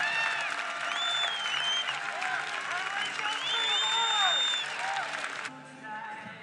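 A college baseball crowd at an Alabama versus Oklahoma game applauds a departing pitcher with steady clapping, scattered whistles and cheers, and a commentator's voice runs over it before the noise drops off near the end.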